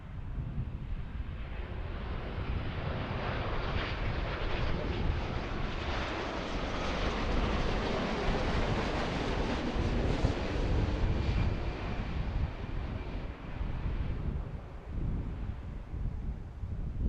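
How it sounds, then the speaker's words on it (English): A Boeing 787 Dreamliner heavy jet lands at Philadelphia airport with a loud, sustained broadband roar that swells toward the middle and eases off near the end, alone with no voices, wind-buffeted like an outdoor recording. "Always cool to watch the Dreamliners touch down"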